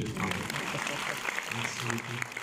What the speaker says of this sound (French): Oui, on peut applaudir, monsieur.